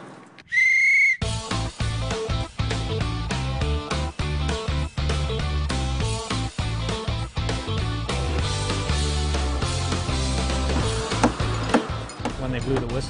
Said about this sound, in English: When they blew the whistle